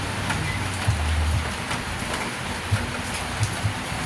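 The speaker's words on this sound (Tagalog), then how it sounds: "So hindi pa naman siya ganun kalakas yung ulan" Steady rain falls during Typhoon Pepito, a continuous moderate hiss of drops on surfaces with occasional low thumps, no voices.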